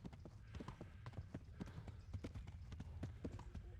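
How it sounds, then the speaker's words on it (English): Horse hooves galloping in Kingdom Come: Deliverance, a fast, steady clip-clop rhythm that fills the scene during a chase, with faint voices in the background. "Se cansa el caballo"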